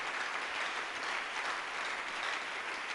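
Sunday church congregation applauding during worship, a dense, even roar of many hands clapping that holds steady and fairly quiet throughout, no voices on top.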